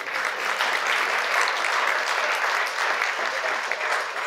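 Lecture audience applauding black holes at a talk on gravitational waves, a dense, even wash of clapping held steady at close range for several seconds.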